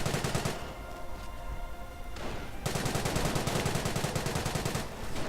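Gunfire crackles in a video game battle where Panzer Grenadiers advance under heavy fire, dense continuous bursts and rattling volleys, easing briefly before the firing swells again.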